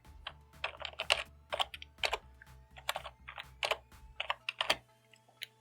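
Keys clatter on a computer keyboard as a web mail address is typed into a browser address bar, a quick irregular run of close, crisp clicks with short pauses over a low steady hum.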